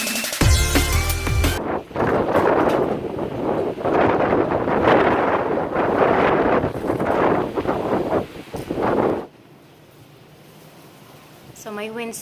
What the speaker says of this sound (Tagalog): So, may windstorm ngayon dito sa amin.